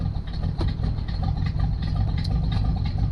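A hearse, long left sitting and now readied for Halloween, runs steadily at a close, low engine rumble with small ticking irregularities throughout.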